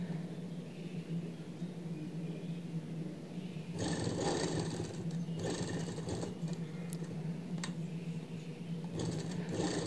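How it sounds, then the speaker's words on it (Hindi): A sewing machine stitches along the edge of a sleeve with loops, a low mechanical whir that starts in bursts partway through, close and steady, with no voices. "अब हम जो है अपने लूप वाली साइड से भी इसको जो है किनारे वाली सिलाई लगा देंगे इस तरह से"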